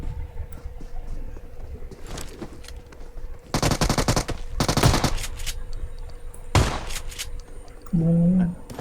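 Bursts of automatic gunfire from the battle royale video game PUBG, several dense volleys of fast shots with brief pauses between them, set against steady game ambience and a short tonal sound near the end.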